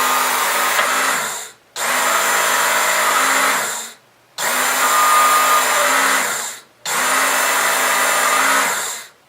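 A Work Sharp Knife & Tool sharpener whines loudly in four runs of about two seconds each, separated by brief silent pauses, with no talking.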